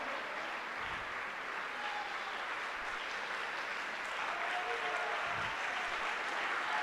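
A church congregation claps continuously as one dense, even wash, close and steady from start to finish with no talking over it.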